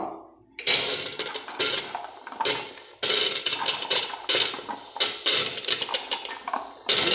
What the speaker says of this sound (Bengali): আমি এখন রাজমাটা ডাইরেক্ট প্রেশার কুকারে দিয়ে দিব